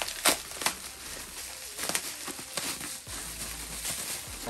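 Plastic packaging crinkles and crackles as a coolant reservoir is unwrapped, in irregular close bursts of rustling with short gaps between.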